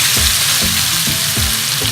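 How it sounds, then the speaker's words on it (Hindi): Boneless chicken with spices sizzles loudly in a pan for a handi, a steady hiss of frying broken by several low thumps of stirring, with no voices. "स्पाइस ऐड करने के बाद हमने इसे 2 से 3 मिनट तक भूनना है"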